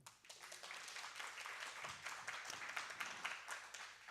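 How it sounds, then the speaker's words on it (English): An audience at a Story Collider storytelling show claps in a show of hands for first-time attendees, a moderate, fairly even spread of applause with scattered sharper claps, heard somewhat distant. "By a round of applause."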